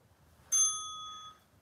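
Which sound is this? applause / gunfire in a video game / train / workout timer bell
workout timer bell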